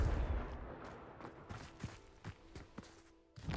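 A Confringo fire spell cast in Hogwarts Legacy opens with a loud blast, followed by quieter scattered thumps and sharp impacts fading into the background, with no talk over it.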